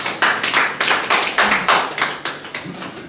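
Church congregation applauding, a brief burst of rhythmic clapping in steady repeated beats, fairly close and without talking.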